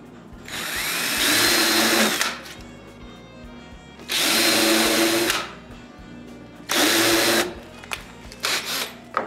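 A power tool cuts the tenon ends of a wooden board for a sliding barn door, whining loudly in three separate bursts of about two seconds each, with short pauses and a few brief spurts near the end.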